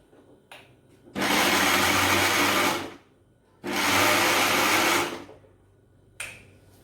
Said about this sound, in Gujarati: હવે પિંડિયાનો ભૂકો કરી લઈએ આપણે મિક્સરમાં